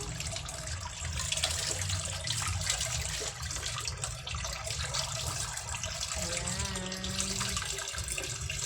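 Steady running water pours throughout, like a tap filling a basin, with a brief higher tonal sound near the end.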